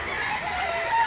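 A fighting rooster from Cebu province crows in one loud, sustained, close call lasting about a second, alone without talk.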